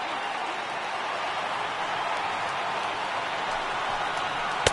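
A packed ballpark crowd of over 39,000 roars in a continuous, steady wash of cheering and applause in MLB The Show, a Red Sox at Yankees game at a retro Polo Grounds setting.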